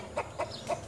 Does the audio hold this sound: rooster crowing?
yes